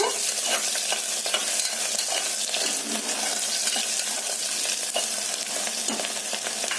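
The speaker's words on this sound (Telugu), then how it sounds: "ఉల్లిపాయలు, పచ్చిమిర్చి, వేసుకొని కలుపుకున్నాము" Onions and green chillies frying for a mutton curry, stirred constantly with a loud, continuous hissing sizzle and scraping of the spoon up close, no voices.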